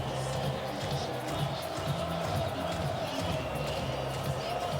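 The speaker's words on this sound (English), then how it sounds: "How about this crowd with a 42-point lead, like the game is still hanging in the balance, on its feet" A college football stadium crowd at the FCS championship quarterfinal, Idaho against Montana State, roars in a sustained wash of cheering, fairly distant and steady throughout.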